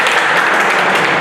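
Classroom of students clapping for a classmate, a dense burst of applause that stays steady and fairly loud for about a second with no voices over it.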